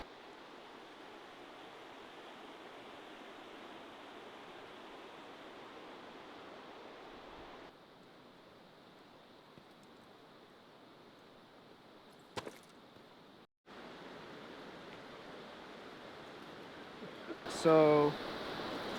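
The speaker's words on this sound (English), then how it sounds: "Here's a piece of the river." Steady broadband rush of the Kern River flowing, a continuous wash of water that dips briefly midway and carries a short clatter of handling noise near the end.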